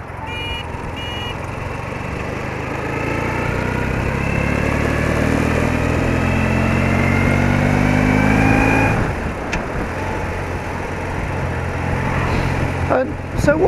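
An old motorcycle rides along country lanes, its engine droning steadily and loudly throughout with slight rises in pitch, and wind and road noise mixed in as someone talks over it.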